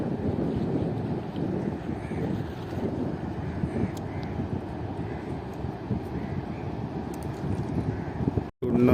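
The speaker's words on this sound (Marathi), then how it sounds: "ती होडी येत आहे दुसरी" A fishing motorboat drones on open water, its engine rumbling steadily beneath heavy wind buffeting the microphone, with a brief dropout near the end.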